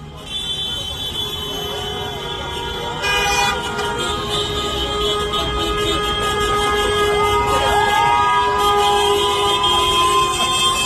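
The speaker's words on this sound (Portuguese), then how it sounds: "Olha o buzinaço." Car horns honk continuously at a weekday street protest in Goiânia, Brazil, with many overlapping blares close by and sustained for the whole stretch, loud over traffic noise.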